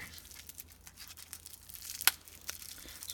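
Strong Scotch tape rips off a LEGO Cloud City set box, a close crackling tear with crinkling cardboard and one sharp loud rip near the end.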